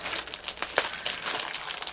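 A card kit package is pulled open, producing a quick run of crinkly plastic and paper rustles and small tearing crackles, fairly close and quiet.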